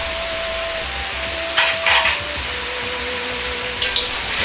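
Fried eggplant, green pepper and leek being stirred in a hot wok for mapo eggplant, a steady sizzle and hiss with brief scraping stirs and a faint tonal hum beneath.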